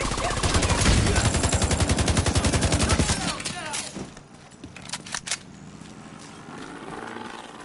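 Rapid automatic gunfire in The Division 2, set in New York, rattles loud and close for about three seconds, followed by scattered quieter shots and clatter.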